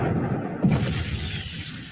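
Explosions aboard a spaceship as a sound effect in an Alien tabletop horror game session, a deep rumbling boom swelling near the middle over a continuous low roar that slowly fades.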